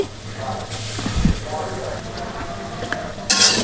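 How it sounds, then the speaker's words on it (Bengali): Grated carrots stir-fried with long beans in a pan, a soft sizzle under light scraping and clinks of a spatula against the pan, with a brief louder burst near the end. "এখন এটাকে আর বরবটির সঙ্গে মিশিয়ে এভাবে একটু ভেজে নিব"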